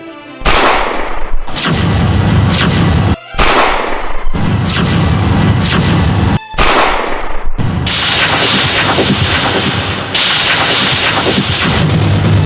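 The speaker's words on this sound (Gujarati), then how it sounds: "આને આટલી બધી ગોળી મારી તોય આને કંઈ થયું નહીં" Gunfire booms out in heavy, loud bursts, several long sustained volleys of rapid shots separated by brief gaps, close and harsh with no talk over them.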